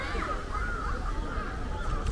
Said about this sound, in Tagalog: Hala, may mga uwak siya. Uwak ba yan?